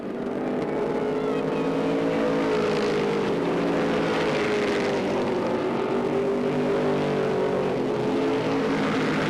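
Stock car engines roar continuously at a short-track race, a Ford Thunderbird leading an Oldsmobile, the loud steady drone of several cars rising and falling slightly as they circle close by.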